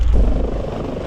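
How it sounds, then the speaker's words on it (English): A helicopter sets down on a single landing skid in a climbing area in Kochamo, Los Lagos, Chile, its rotor and engine making a loud, steady, close roar throughout the brief moment. "An aircraft landed with only 1 landing skid in a climbing area in Kochamo, Los Lagos region."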